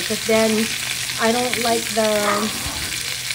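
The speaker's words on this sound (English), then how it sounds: "And then I just brown the meat instead of braising it right away," Pork browning in a pan for Filipino adobo, giving a steady, hissing sizzle that runs beneath a person speaking.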